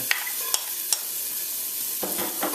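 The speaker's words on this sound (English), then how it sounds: "since the pan is pretty warm, I'm going to add in the onion." Thinly sliced onion and garlic sizzle in a warm pan, a steady frying hiss with a few sharp clicks of a utensil near the start and a louder burst of sizzling and stirring toward the end.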